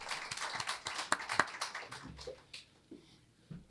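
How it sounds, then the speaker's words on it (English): Brief scattered clapping from an audience at a local chamber of commerce event, a handful of sharp claps in the first half thinning out and fading toward the end, fairly faint with no talk over it. "I want to give a big round of applause for the Oshkosh Chamber for helping us put this together."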